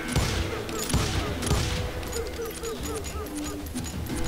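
Gunfire in the Western shooter Call of Juarez: Gunslinger: several loud, close revolver shots fire in quick succession at the start, followed by ringing echoes and game background noise.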